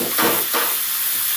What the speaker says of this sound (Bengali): এবার এই ড্রাই মশলাটা সামান্য জল দিয়ে আমি কষিয়ে নেব।